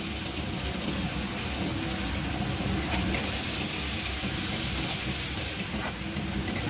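Cumin, bay leaf and onion frying in hot oil make a steady, close, loud hissing sizzle that runs unbroken on its own, without any voices.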